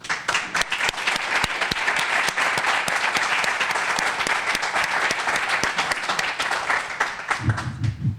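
An audience applauds at a horticulture center expansion press conference, a brisk, steady run of many hands clapping with some individual claps standing out, ending as a voice begins.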